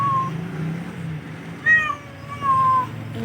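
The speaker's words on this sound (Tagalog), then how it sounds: "Si Cremo, si Princess, si Pilar, pusa namin na isa." Cats meowing at a home sheltering stray animals, a few close, high-pitched meows spaced over a few seconds above a low background murmur.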